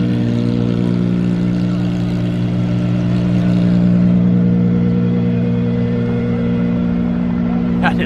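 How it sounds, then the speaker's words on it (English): A Gordon Murray T50 V12 engine idles close by with a loud, steady, even drone that holds without changes in revs for the whole stretch. "Now that sounds incredible at idle, the V12 T50."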